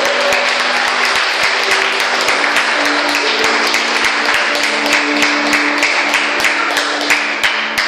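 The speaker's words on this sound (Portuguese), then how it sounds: "dá uma salva de palmas para Jesus" Church congregation clapping loudly and steadily throughout, dense and continuous, with sharp claps standing out over a sustained tone from music or voices in the hall.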